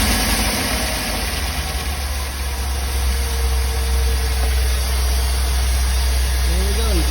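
A GM 5.3 V8 in a box truck idles steadily, a loud continuous low-pitched engine drone with a constant high whine above it, running evenly without misses while someone talks over it.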